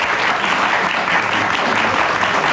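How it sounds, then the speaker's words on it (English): A studio audience on a 1985 morning television talk show applauds loudly and continuously, a dense, even wash of clapping that fills the whole moment without any talk over it. "If you'll just applaud. Applaud."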